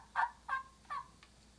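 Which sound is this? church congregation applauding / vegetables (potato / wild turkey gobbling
wild turkey gobbling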